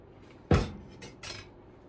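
A kitchen knife is picked up from a counter with one sharp clatter, followed by two softer scraping, handling clinks nearby while pastrami is readied for thin slicing.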